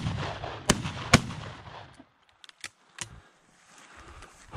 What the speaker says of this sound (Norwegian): Å, det var dårlig skudd det første.